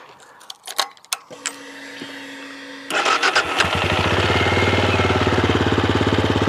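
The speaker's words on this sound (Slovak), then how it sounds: "my si ideme Imperiale 400 aj naštartovať" Benelli Imperiale 400 retro motorcycle: a few key and switch clicks, then the starter cranks and the single-cylinder engine catches and settles into a loud, steady, pulsing idle at fairly high revs, close by.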